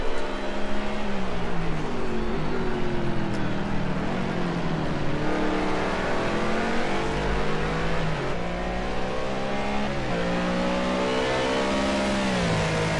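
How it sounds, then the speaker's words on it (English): A McLaren GT race car at Donington Park accelerates hard out of a corner, its engine note climbing steadily through rising revs, loud and sustained for the whole stretch with no speech. "good exit, good traction from the McLaren there"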